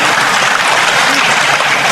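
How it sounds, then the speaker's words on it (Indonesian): Dense, steady applause from a seated audience at an Indonesian government finance address, a continuous loud wash of clapping with no pauses or voices. "Tepuk tangan dong, ini penting buat kita."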